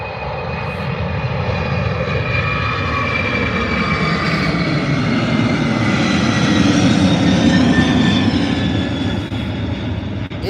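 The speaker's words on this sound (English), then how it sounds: "It's my first up close takeoff for the 747." A Boeing 747 taking off at Birmingham airport in fog, a loud, sustained roar of jet engines with whining tones, steady and close, swelling slightly toward the end.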